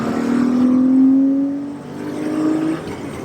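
A manual-transmission car accelerates up a highway on-ramp onto a divided two-lane road, its engine note rising steadily and loud, easing briefly as a gear change comes, then climbing again with no talk over it.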